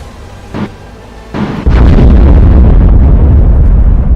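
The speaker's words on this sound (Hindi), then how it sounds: "क्या भीषण धमाका हुआ है, सुनिए जरा।" A massive bomb explosion on a bridge erupts into a sustained, roaring rumble that stays loud and deep for several seconds, preceded by a couple of brief muffled thumps.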